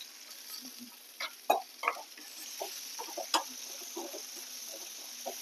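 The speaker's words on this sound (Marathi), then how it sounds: "कांदा इथं आपल्याला चांगला लाल होईपर्यंत परतून घ्यायचा आहे।" Chopped onions sauté with ginger-garlic paste in a pan for a matar masala, giving a soft, steady sizzle broken by quiet, intermittent scrapes and taps of stirring.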